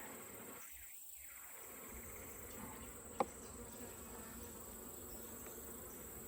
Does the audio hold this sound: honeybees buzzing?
yes